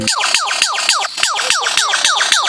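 A lyrebird mimics an ambulance and police car siren, producing rapid repeated swooping wails about four per second, loud and continuous with no other sounds.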